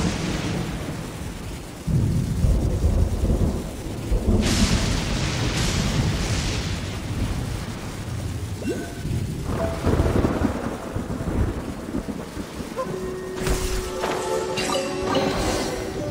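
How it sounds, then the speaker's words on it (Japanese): Heavy thunder from lightning strikes in the video game Genshin Impact, a long loud rolling rumble with sharp cracks and booms over a rainy storm ambience, no speech. "今の落雷はすごかったな"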